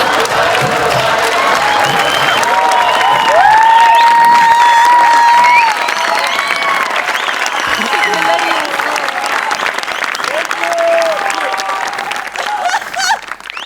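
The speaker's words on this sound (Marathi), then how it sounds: "जोरदार टाळ्या" A studio audience at a live Marathi comedy show gives loud, sustained applause and cheering as a performer comes on stage, with voices and music mixed into the clapping.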